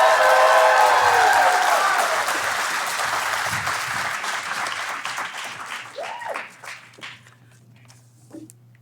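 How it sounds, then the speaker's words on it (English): Loud audience applause and cheering greet the first speaker at the Design in 7 2022 talk event, a dense burst of clapping that slowly thins out, with a few last scattered claps near the end. "make the biggest, most boisterous round of applause that you can for our very first Design in 7 speaker, Carla Fabian, everybody!"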